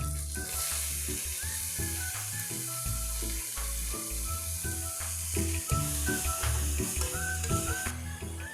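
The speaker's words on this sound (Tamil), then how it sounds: "பொடியாக நறுக்கி வச்சுருக்கிற வெங்காயத்தை போடுவோம்." Chopped onions and curry leaves fry in hot oil in a kadai for mutton nalli gravy, giving a steady, close sizzle broken by repeated scraping stirs, with no talking.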